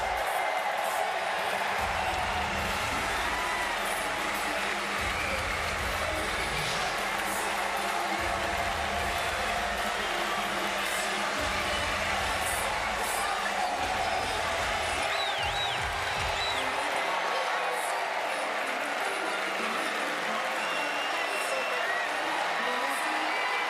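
A tennis crowd on Philippe Chatrier Court rises to acclaim the wheelchair tennis champion, sustained applause and cheering filling the stadium under commentary. The roar continues steadily throughout with occasional whoops.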